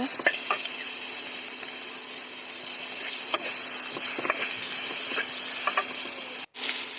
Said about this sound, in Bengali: পেঁয়াজটাকে হালকা লাল লাল করে বাদামি করে ভেজে নেব